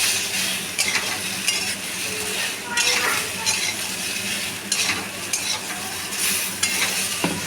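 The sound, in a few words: stirring mixed vegetable curry with ginger paste in pan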